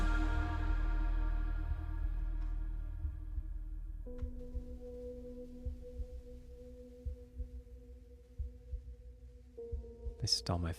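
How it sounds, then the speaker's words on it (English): A low thumping heartbeat pulses rhythmically beneath sustained humming tones in music, the beats growing more distinct as the droning notes shift and thin out. "They stole my thunder with the heartbeat sound effect."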